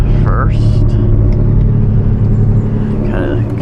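Lamborghini Diablo engine driving slowly out of a residential area, a loud continuous low rumble and drone with the car moving at steady speed.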